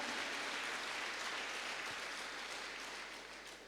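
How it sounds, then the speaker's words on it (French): Loud, sustained applause from a church congregation during a bilingual Sunday worship service, a dense wash of clapping hands filling the room and tapering slightly toward the end. "Pour remercier Dieu parce qu'il est bon,"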